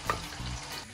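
Onion frying on a griddle, a short steady sizzle with a brief scrape at the start, close and moderately quiet, with no voices.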